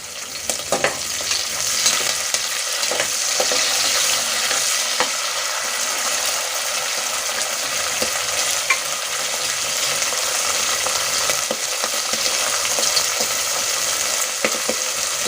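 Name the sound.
green peas frying in a pan with ginger, garlic, chili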